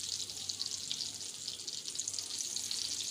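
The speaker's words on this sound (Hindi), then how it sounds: "5 मिनट के लिए हम इनको फ्राई करेंगे।" Stuffed brinjals fry over a low flame in a pan, a steady, close hiss of sizzling oil that runs without a break, with no one talking.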